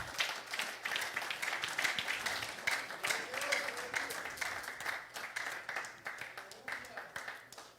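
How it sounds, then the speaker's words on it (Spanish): A church congregation claps in praise during a Spanish-language service, producing a steady, dense patter of many hands that runs throughout while a voice speaks over it. "Denle un aplauso al Señor"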